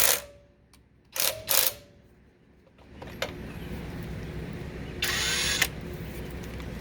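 Right angle impact wrench with a 6-inch extension working a bolt on a car's sway bar, giving short loud bursts of rattling hammering separated by pauses, then a longer burst over steady background noise.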